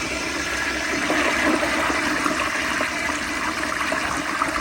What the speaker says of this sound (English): let's see if there's enough water in the tank for one more flush